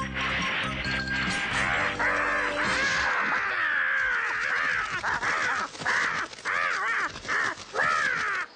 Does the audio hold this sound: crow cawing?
yes